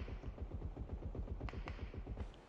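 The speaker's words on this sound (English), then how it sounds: "We hear more gunshots coming out there" Rapid automatic gunfire in a PUBG esports match at the 2019 SEA Championship, a rhythmic stream of thumping shots at fairly low level, with a few sharper cracks partway through and no commentary over it.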